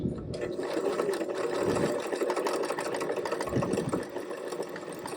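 A sewing machine set to a narrow stitch length stitching a buttonhole, a steady close mechanical whir running throughout with slight variations in pace.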